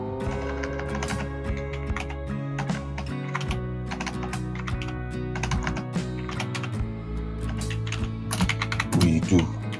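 Fast, steady typing on a computer keyboard while working on a flyer design in Photoshop, a dense run of close, crisp key clicks with brief pauses and no voice over it.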